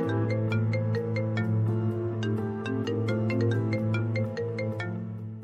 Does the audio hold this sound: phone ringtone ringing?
yes